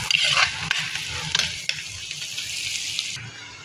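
Garlic sautéing in melted butter for chicken curry, a close steady sizzle with a few utensil scrapes and taps as it is stirred, no talking.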